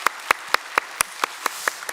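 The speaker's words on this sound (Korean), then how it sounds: "우리 세 가정 오셨는데 박수로 환영하겠습니다." Sparse applause from a church congregation at a Sunday worship service welcoming new families: about nine separate sharp claps in a slow, even rhythm, fairly close and moderately loud, with no talk.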